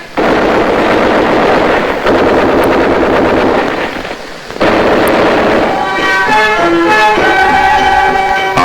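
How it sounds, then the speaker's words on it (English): Soldiers fire guns in a dense, loud barrage of overlapping bursts and booms, like machine guns and heavier fire together; after a brief dip, the roar returns, with tonal musical notes rising over it toward the end. "The soldiers came and spread chaos, and our farmers fled before their guns."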